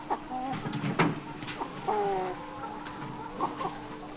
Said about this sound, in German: Schöne Hühner.